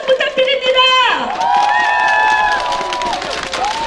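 A crowd at an outdoor presidential campaign rally in Yeoju roars in support, with loud shouts and long, rising and falling whistle-like cries over a constant bed of cheering and scattered clapping.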